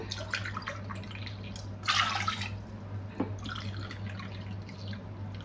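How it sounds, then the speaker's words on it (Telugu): Water splashes and trickles into a pot of lentils, three cups poured, with a short louder pour in the middle and a steady low hum underneath. "ఇదే కప్పుతో మూడు కప్పులు వాటర్ వేస్తున్నాను"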